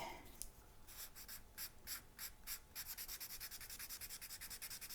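Charcoal rubbed and smudged across drawing paper in a steady scratchy rhythm, the dry strokes growing faster and more regular toward the end, close and clear with no talking.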